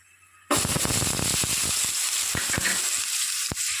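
Onions dropped into hot oil in a pan for chicken curry, setting off a sudden loud sizzle that crackles and pops steadily, close up and alone with no talking.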